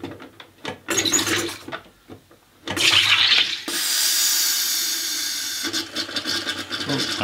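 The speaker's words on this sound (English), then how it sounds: "And now what I'm going to do is I'm going to carbonate the two of them together" Whiskey and water carbonated together in a home carbonation device: bursts of hissing gas and bubbling liquid come in several uneven spurts, with one long steady hiss in the middle, loud and close, with no talking.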